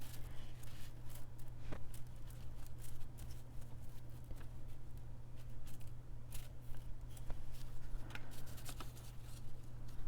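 Scissors snip through ribbon while Christmas bows are being made, giving repeated sharp, close cuts in an irregular rhythm over a steady low hum, with no talking.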